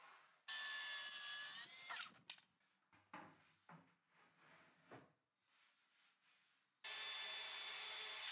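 A power driver sinks screws from the inside to fix cabinet end panels during a utility room renovation. Two loud, steady whirring bursts sit at the start and end, with quieter handling and rubbing noises between them. No one speaks.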